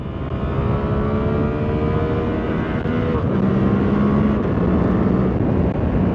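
A 2024 Suzuki GSX-8R motorcycle pulls hard in second gear, its engine note rising steadily and loudly up close with a shift in pitch partway through.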